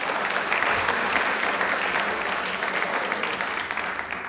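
Studio audience at a televised quiz show claps in a sustained burst that slowly tapers over a few seconds, dense and fairly close.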